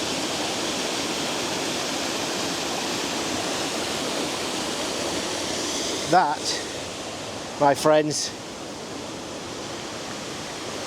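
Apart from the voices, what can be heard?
Halicki Waterfall in Yorkshire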